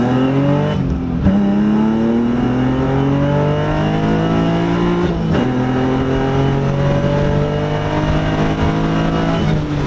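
A car accelerates hard on cold tires, its engine note rising steadily through the gears with two sharp shift breaks, loud and close with no talking.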